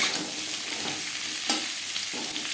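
Papaya and vegetable stalks are stirred in a frying pan for a vegetarian sabji, a steady close sizzle with the scrape of the spatula and a couple of sharper knocks against the pan.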